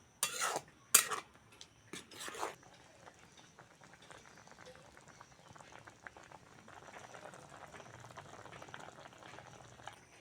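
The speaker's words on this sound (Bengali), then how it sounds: "টক ভালোভাবে ফুটে গেছে" A sour tamarind dish with elephant-foot yam stalks simmers in a pot in a village kitchen, a few sharp clatters at the start giving way to a faint, steady bubbling boil.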